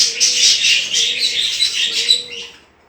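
Pet budgerigars kept at home in a breeding setup chirp and warble continuously in a dense, bright chatter of several birds, close and fairly loud, fading near the end.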